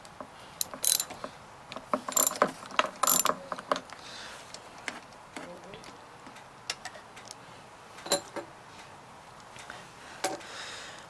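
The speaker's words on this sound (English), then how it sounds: "removing the spark plug with a spark plug wrench, socket extension, and a ratchet." Ratchet wrench on a socket extension loosening the spark plug of a Honda EU2000 portable generator, heard as a few close bursts of metallic clicking separated by quieter handling noises.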